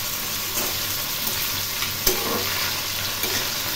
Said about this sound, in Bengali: এগুলি খুব ভালো করে ভেজে নিতে হবে।